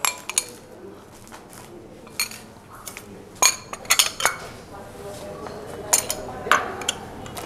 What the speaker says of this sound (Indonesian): Ini ubi 150 gram yang sudah direbus atau kukus. Lalu saya haluskan.